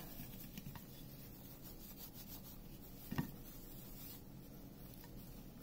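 Diamond painting drills in a plastic bag rolled around with a dryer sheet, giving a soft continuous rustling and rubbing texture with one brief louder crinkle partway through, close and quiet.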